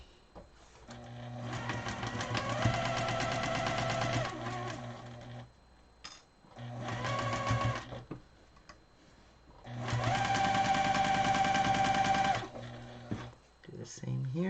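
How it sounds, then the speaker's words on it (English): A sewing machine stitches a quarter-inch seam joining nested quilt block coaster pieces, running in three close, loud bursts of a few seconds each with short pauses between, the motor pitch rising as it speeds up. "And now we'll sew them together at 1/4 inch."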